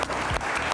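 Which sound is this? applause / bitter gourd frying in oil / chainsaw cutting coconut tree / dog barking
applause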